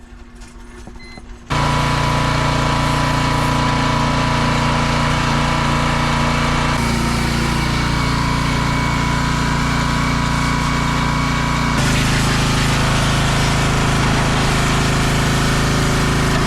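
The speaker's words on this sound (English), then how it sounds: "So yes, the engine was in and running in less than 3 hours" Swapped engine in a Dodge Sprinter van starting and then running steadily, a loud close continuous engine drone with a constant hum and slight shifts in pitch partway through, with no voices over it.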